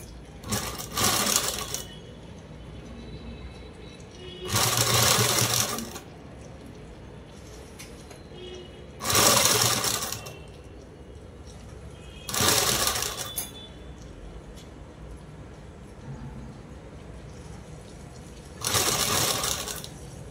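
A sewing machine stitches a garment seam with lining in short bursts, five separate runs of rapid whirring and clatter separated by quiet pauses, fairly close and clear, with no voices.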